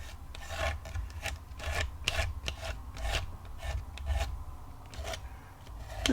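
Repeated rasping scrapes as excess Distress paste is pulled off a stencil and wiped back into the jar, about a dozen strokes in an uneven rhythm, close and fairly quiet.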